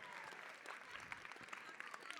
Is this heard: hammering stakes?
no